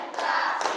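Students in a classroom clapping out a short clap pattern, a brief close burst of hand claps.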